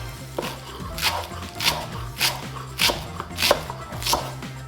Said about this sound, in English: So I'm gonna cut the stem off, bunch the entire cilantro up, and I'm just gonna go at it.